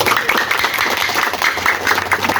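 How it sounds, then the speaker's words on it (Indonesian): A classroom of students applauds together, a dense, even patter of many hands clapping close by for a couple of seconds without a break. "Oke, tepuk tangan dulu kita semua"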